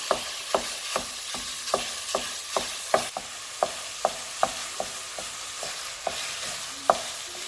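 Ground turkey being stirred in a hot pan, with a steady sizzle and a regular rhythm of scraping spatula strokes about twice a second, close and fairly quiet.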